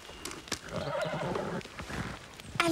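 A horse whinnies in an animated stable scene, with a rising, shrill neigh between scattered hoof clip-clops and thuds, heard close and fairly loud over brief rustling.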